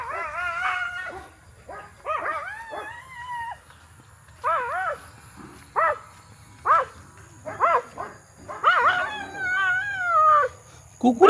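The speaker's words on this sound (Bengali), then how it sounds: "কুকুরে শিয়াল ধরছে" Dogs chasing a jackal give bursts of howls and barks, with rising and falling yelps that come and go in clusters over a steady low background rumble.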